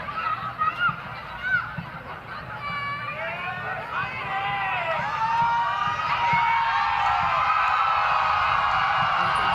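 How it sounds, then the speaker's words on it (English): A hostile home crowd of Cebu fans roaring and cheering at a Philippines Football League match, a broad, far-off swelling crowd noise that grows louder over time, with a commentator talking over it. "hostile crowd of Cebu egging the player on"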